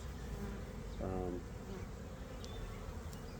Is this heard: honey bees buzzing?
yes